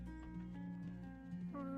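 Horse in the Ultima Online video game, heard as a steady, tonal whinny-like sound with clip-clop touches, close and fairly loud throughout the short clip, with no talk over it.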